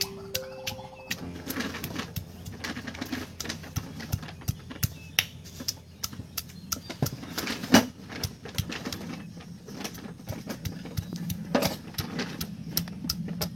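Spices are ground by hand on a stone slab in a village kitchen, producing steady rhythmic scraping and knocking strokes up close, with sharp clicks scattered over the repeated grinding.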